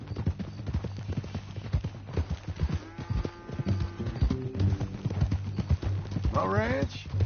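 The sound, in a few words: horse hooves clip-clop in video game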